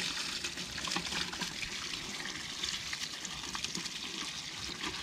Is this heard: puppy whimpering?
no